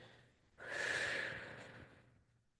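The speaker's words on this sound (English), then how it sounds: "Take a breath in, bringing it to the heart, and exhale down." One deep breath during a qigong exercise, a soft near inhale that swells into a long, gradually fading exhale through the nose and mouth, quiet and alone.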